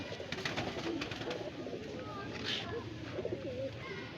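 Pigeons coo softly nearby at a summer flying tournament in Bareilly, Uttar Pradesh, low murmuring calls under a busy background of people talking.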